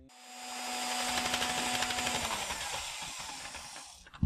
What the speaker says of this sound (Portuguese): eu vou bater essa mistura com a batedeira para que isso aqui fique na técnica da parafina batida em neve.